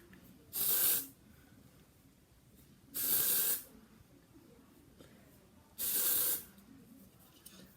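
Three short bursts of dry shampoo aerosol spray, each about half a second, evenly spaced with quiet pauses between them, close up.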